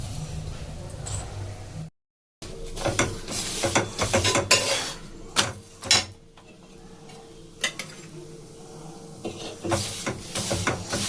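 A stuffed paratha fries in a pan with only a little oil, giving a close, steady sizzle broken by scraping and clicking from a utensil, with a brief silent gap near the start.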